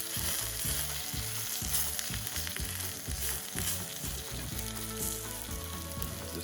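Curry sizzles and spits steadily in a hot pan, a dense, close frying crackle with rhythmic scraping stirs, no voices.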